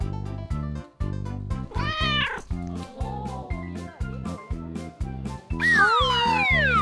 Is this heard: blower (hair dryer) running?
no